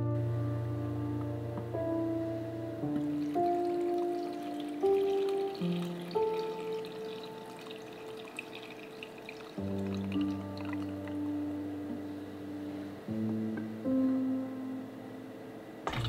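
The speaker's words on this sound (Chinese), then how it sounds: "并轻轻倒入干净的冷水" Clean cold water poured gently over cooked red beans in a bowl, with a steady, close trickle and fill sound that shifts in pitch as the level rises, alone for about sixteen seconds.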